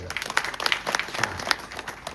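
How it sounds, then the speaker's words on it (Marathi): Audience applause at a live gathering: a steady patter of many hands clapping at moderate volume for about two seconds, with some voices mixed in. "टाळ्या वाजवा त्यांच्यासाठी"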